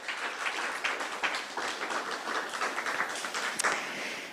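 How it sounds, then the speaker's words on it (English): Applause from a modest audience at a junior high cross country awards ceremony, a steady patter of many hands clapping, moderately quiet and continuous. "We would like to congratulate you with a round of applause on receiving this Bulldog Strong Award."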